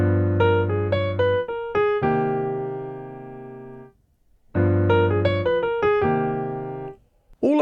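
A melodic instrument plays two bursts of a quick lick built on the first five notes of the altered scale: rapid notes settling into a long held tone, a short silence, then the phrase again, close and alone.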